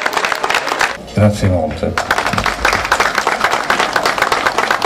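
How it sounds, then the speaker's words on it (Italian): An audience applauds a first prize winner at an Italian art event, a dense burst of clapping from many hands that carries on steadily, briefly interrupted by someone speaking. "Un applauso, signore, è stato il primo classificato."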